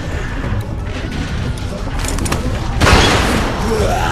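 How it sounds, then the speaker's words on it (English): Gunshot in The Walking Dead: 400 Days, a loud crashing blast near the end amid a noisy, tense scene with low rumble and shouting voices. "Fire the fucking gun!"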